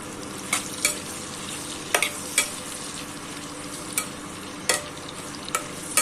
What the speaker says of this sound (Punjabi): ਪਿਆਜ਼ ਤੇ ਲਸਣ ਨੂੰ 2 ਤੋਂ 3 ਮਿੰਟ ਤੱਕ ਚੰਗੀ ਤਰ੍ਹਾਂ ਫਰਾਈ ਕਰਾਂਗੇ